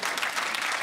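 A television studio audience gives a brief, dense burst of steady clapping at a comedy panel show.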